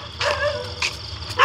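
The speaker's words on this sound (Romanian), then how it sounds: "Uite un câine." Dog barking on a street at night, a few short barks at about 0.2, 0.8 and 1.4 seconds, mid-distance over a steady low traffic-like hum, with no talking.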